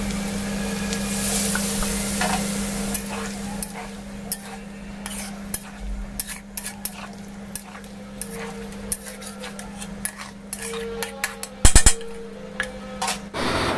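Potato and soybean chunks fry with masala and chopped tomato in a pan, giving a soft continuous sizzle under frequent sharp clicks and scrapes of a spoon stirring against the metal.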